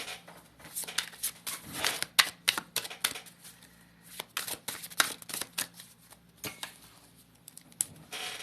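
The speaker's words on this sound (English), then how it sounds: "But as I'm shuffling for you," Tarot cards being shuffled in repeated crisp riffling bursts, close and fairly loud, with short pauses between shuffles.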